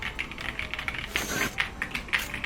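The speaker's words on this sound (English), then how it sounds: "You'll see my new little green keyboard I think is really nice." Typing on a small green computer keyboard resting on a black mouse pad, with quick, clicky keystrokes in an uneven, steady rhythm, close and crisp with no talking.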